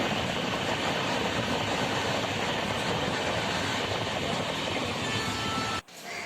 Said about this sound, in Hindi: ट्रेन कोलकाता जयनगर बरौनी स्टेशन पहुंच चुकी है